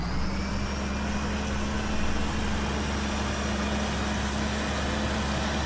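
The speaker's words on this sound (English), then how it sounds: "Let's get this tractor back" A tractor engine idles steadily in Farming Simulator 17, a continuous low drone with a faint whine on top that holds at a constant level throughout.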